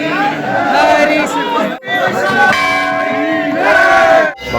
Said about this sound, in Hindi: भक्तों की भीड़